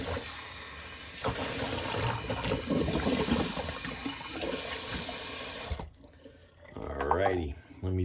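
Cold tap water running into a bathroom sink while a razor is rinsed during a wet shave, a steady close splashing stream that cuts off abruptly near the end, followed by a brief voice.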